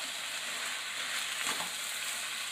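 Chicken stir fry with Singapore noodles crackling gently in a pan over very low heat, a continuous quiet sizzle with a brief stirring scrape near the middle and no speech.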